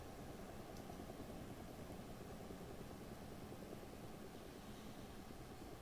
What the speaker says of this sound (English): we can hear our friendly helicopter flying around.